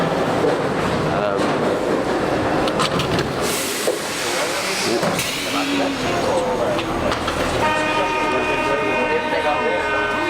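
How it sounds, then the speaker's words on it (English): A Paris Metro Line 8 steel-wheeled train pulls into the platform with a loud rumbling and screeching approach, then settles into a steady whining tone as it stops, while a person talks over it. "So we can already feel the platform vibrating as the train arrives"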